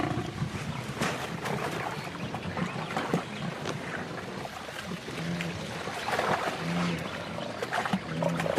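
A lioness roars and growls while attacking a gnu in water, the rough roaring rising and falling over splashing and thrashing, close and loud throughout.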